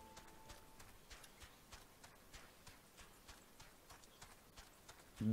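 Steady clip-clop of a riding mount's hoofbeats in Final Fantasy XIV: A Realm Reborn, a regular rapid trot that is faint and even throughout and ends in a brief louder burst.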